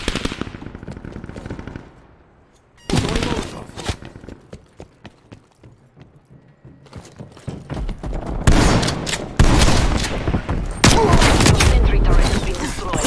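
A video game sentry turret opens up in rapid machine-gun bursts, loud and close: a short volley, then a quieter lull, then long sustained strings of fire.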